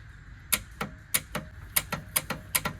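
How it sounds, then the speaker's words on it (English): A 1982 Mercury Capri 5.0 that sat in a junkyard clicks repeatedly when the key is turned, giving about nine sharp, evenly spaced clicks close by, with no engine catching. "Now it's clicking every time."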